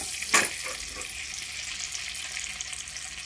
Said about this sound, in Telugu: వీటిని ఒక 2 నిమిషాల వరకు ఫ్రై చేసుకోవాలి.